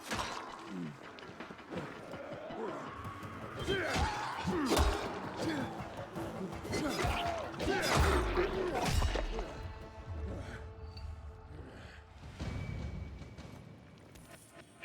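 In Dying Light 2, a door is bashed in with heavy crashing, slamming and thudding blows mixed with game effects and someone talking over them.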